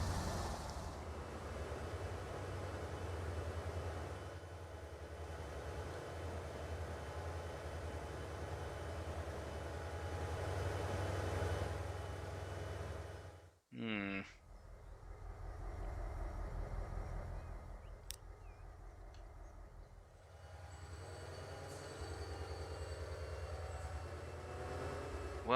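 Freight trains in the transport simulation game Transport Fever 2 rumble past with a steady low mechanical drone that breaks off briefly midway and then resumes. No voices are heard.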